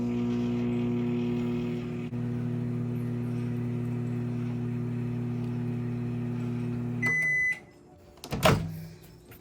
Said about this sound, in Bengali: এই টমেটো পেঁয়াজটা আমি চার মিনিটের জন্য মাইক্রোওয়েভ করবো